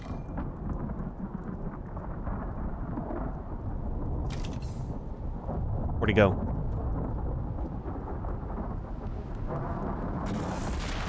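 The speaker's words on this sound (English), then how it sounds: "I like those storms, though. They're kind of neat." Stormy weather in the survival game Icarus, a steady broad wash of rain and rumbling thunder with a louder crack near the middle, running throughout under a brief line of talk.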